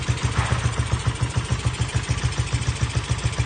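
A dry-running Thai-market motorcycle engine fitted with a carburetor idles steadily nearby, a regular low mechanical pulse with light clatter throughout and no talk.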